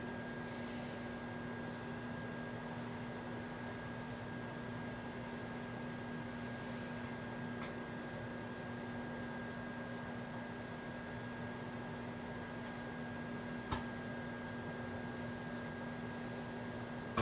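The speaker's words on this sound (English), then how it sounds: "The microwaves are making kind of weird noises" A microwave oven running while lunch of rice with meat heats, giving off a steady low mains-like hum with faint broadband whir, quiet and unchanging throughout, with a couple of tiny clicks.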